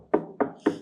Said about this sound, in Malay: nokok pintu rumah.